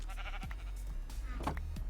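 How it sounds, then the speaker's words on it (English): A sheep in Ferrous Block bleats a couple of times, short wavering cries standing out close over a low steady game background hum. "Oh, Mr. Sheep."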